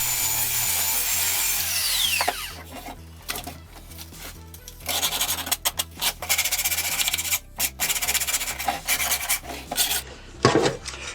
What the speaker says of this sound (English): I get it a good sanding to make it look all nice and pretty.